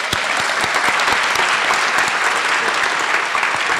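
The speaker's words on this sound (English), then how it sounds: "Please give Chris a round of applause." A crowd applauds throughout at a flight academy graduation ceremony at the University of Maryland Eastern Shore, loud and continuous clapping with no pause.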